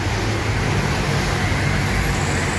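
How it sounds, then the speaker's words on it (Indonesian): A PMTOH intercity bus arriving from Banda Aceh rumbles at a terminal, its engine and road noise forming a loud, steady, close drone without pauses. "Oh ya, bus PM To masuk."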